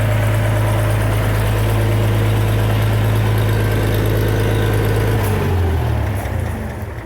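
A Farmall 706 tractor engine idles steadily with a deep, loud rumble close by, the pitch dropping slightly toward the end.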